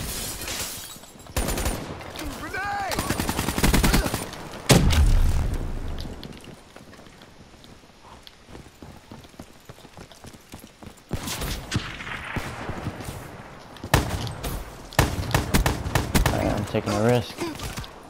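Gunfire in the video game Call of Duty Black Ops III, with bursts of shots and sniper fire coming in loud clusters between quieter stretches, while a player talks over the action.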